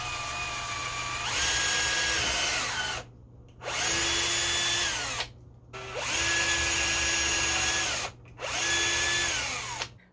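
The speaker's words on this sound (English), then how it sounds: "just take a drill bit and pre-drill into" A power drill whines in four bursts, pitch dropping as the bit bites into wood, with brief quiet pauses between each run.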